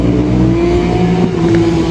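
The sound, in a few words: car accelerating hard with loud exhaust pops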